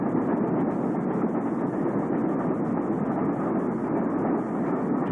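Ontario Northland northbound freight train 213 with engine 1734 rolls past at close range in winter, a steady broadband roar of rack flat cars with their chains rattling, continuous throughout with no voices.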